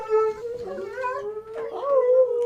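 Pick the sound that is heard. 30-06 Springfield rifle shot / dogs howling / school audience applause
dogs howling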